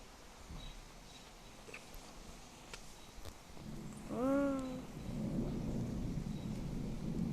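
Rain and thunder from the mobile game City Theft Simulator: a low storm rumble swells midway as steady rain hisses throughout, and a brief tonal whine is heard alongside.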